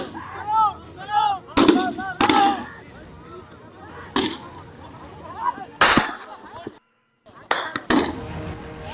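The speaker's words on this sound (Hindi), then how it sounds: "इधर से फायरिंग शुरू होते ही दूसरी ओर से भी फायरिंग शुरू हो जाती है।" Gunfire from several directions, sharp loud bangs scattered irregularly, some in quick pairs, between stretches of raised voices and shouting, close and harsh with a brief silent gap.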